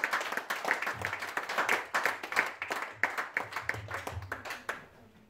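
A church congregation claps and applauds in a rhythmic, steady beat, many hands together, with a low murmur of voices underneath.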